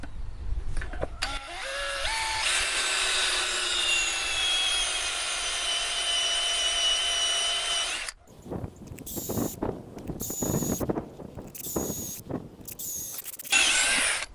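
A drill bit grinds through steel rebar at close range, a steady high whining bore for several seconds, then broken into short bursts of drilling with brief pauses.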